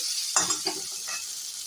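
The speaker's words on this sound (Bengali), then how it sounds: "তো দেখুন আমার আলুটা বেশ ভালো করেই লাল লাল করে ভাজা হচ্ছে।" Potatoes fry in oil with a steady close sizzle, punctuated by a few quick stirring scrapes in the middle.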